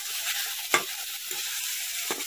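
Fish frying in a kadhai of hot oil with tempering spices, a steady close sizzle broken by a few sharp stirring scrapes.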